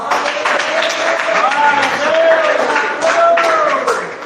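Steady congregational clapping for Jesus at an evangelical church campaign service, a loud continuous patter with a voice singing or calling over it throughout.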